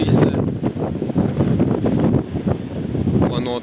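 Strong storm wind on the coast near Keflavik, Iceland, roars and buffets the microphone in heavy, continuous gusts, with a brief voice near the end.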